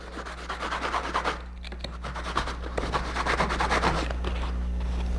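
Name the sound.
sanding with a sanding sponge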